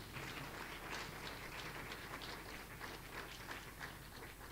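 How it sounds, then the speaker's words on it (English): Faint, steady applause spreads across a hall at a World AIDS Day commemoration, a dense wash of many hands clapping throughout with no talk on top. "would you please give a big hand of applause for that?"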